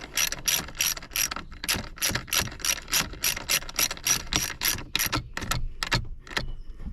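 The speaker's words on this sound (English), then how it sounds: "we have a 10mm socket with a ratchet 1/4 inch drive. We'll tighten it back up." A 1/4-inch-drive ratchet with a 10mm socket tightens a bolt on the plastic EVAP purge valve of a Chevy/GMC. Close, rapid bursts of loud clicking come in quick repeated strokes, with brief pauses between them.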